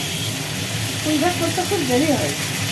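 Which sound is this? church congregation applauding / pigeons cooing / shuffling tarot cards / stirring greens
stirring greens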